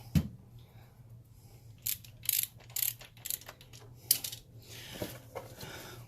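Torque wrench tightening the valve cover bolts on a 2014 Toyota Tacoma PreRunner V6: a scattered run of short metallic clicks and ratcheting ticks over a low background hum.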